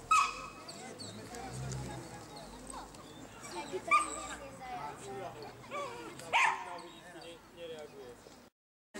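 Dogs yip, whimper and bark at a school animal day in Krupina, scattered short calls mixed into a busy outdoor crowd where people talk throughout.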